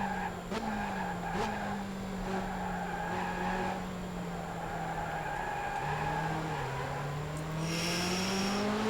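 In the Sega Dreamcast game F355 Challenge, a Ferrari F355 brakes hard on the Long Beach street circuit: a steady engine drone runs underneath while tires skid continuously, with short squeal bursts near the start and a brighter scrape at the end.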